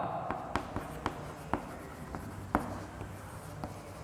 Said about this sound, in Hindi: पहले अपन लिखेंगे सूत्र